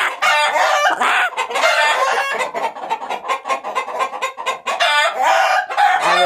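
Roosters and hens crow and cluck continuously in a chicken room, several birds overlapping in loud, close, busy calls throughout with no talking.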